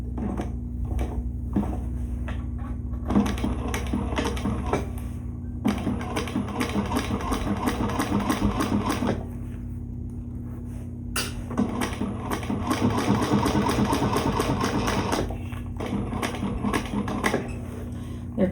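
A sewing machine back stitching a shoulder bag runs in several steady bursts of rapid mechanical ticking, separated by brief pauses, close and moderately loud.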